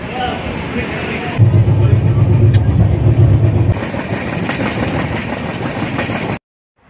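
A late-night train pulls out of Delhi's Anand Vihar railway station, its rumbling wheels and carriages clattering loudly and steadily before cutting off abruptly.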